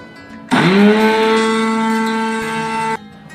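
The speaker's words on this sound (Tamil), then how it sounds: "எல்லா பொருளையும் மிக்ஸி ஜாரில் மாற்றியாச்சு. இப்போ இதை நல்லா அரைக்கணும்." A kitchen mixie jar grinds roasted spices into rasam powder, a loud steady motor whir that starts abruptly, runs about two and a half seconds and cuts off.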